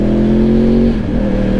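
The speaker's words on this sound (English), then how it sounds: "that big burble exhaust note" A loud, close Yamaha R1 sport motorcycle with an ARC Powersport exhaust rumbles with a deep, steady burble, its pitch dipping slightly partway through as the revs settle.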